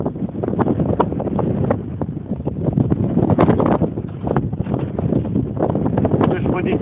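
Strong wind buffets the microphone outdoors in very strong wind while a Parkzone F4F Wildcat model plane with an OS engine flies, a loud continuous rumbling roar with gusty surges throughout.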